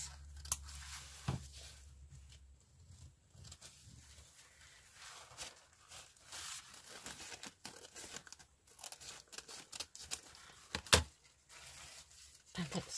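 Scissors snip through paper being cut for a decoupage craft project, with scattered irregular cuts, crinkling and rustling of paper close by, plus brief handling knocks in a quiet room.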